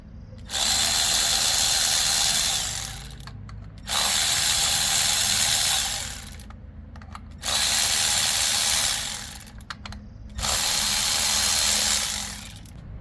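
Power tool driving out the screws on the ignition coils of a Polaris Slingshot, four loud bursts of whirring about two to three seconds each, separated by short pauses, with no talking.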